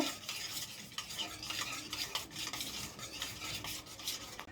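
Spice paste with turmeric being stirred in a pan for a mutton curry, a steady scraping and rubbing of the spoon with a faint sizzle running close and continuous throughout.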